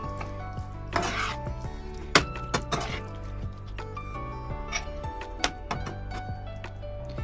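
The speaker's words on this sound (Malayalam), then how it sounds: "ഇനി നമുക്കിതിലേക്ക് ഒരു 1/2 കപ്പ് ടൊമാറ്റോ സോസ് ഒഴിച്ചു കൊടുക്കാം. എന്നിട്ട് ഒന്നും കൂടി ഇളക്കിയെടുക്കാം" Prawn fry being stirred in a pan after tomato sauce goes in, with clinks of a utensil against the pan over a steady sizzle and a few sharper knocks, close and moderately loud, with a background music bed.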